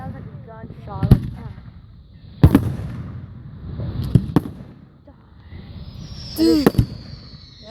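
Fireworks at an outdoor display go off in loud, sharp, gunshot-like bangs at irregular intervals, some with whistling rises and crackle, while people talk nearby.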